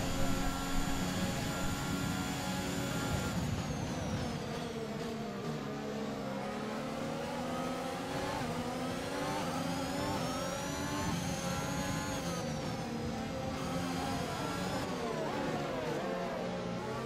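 A Formula 1 car's engine in the racing game F1 2021 drones steadily and loudly at high revs on the Zandvoort circuit in wet weather, with pitch sweeps through gear changes and no talk.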